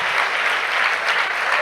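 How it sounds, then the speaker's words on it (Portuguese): A church congregation applauding together at an Easter service, a steady, dense wash of clapping hands that holds at an even level from start to finish with no voices over it. "vamos aplaudir novamente a todos que participaram"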